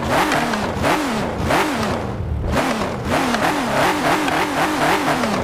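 A W16 engine in the Car Parking mobile game revs hard again and again, its low, aggressive roar rising and falling in steady surges with a short lull midway, loud and alone with no talk.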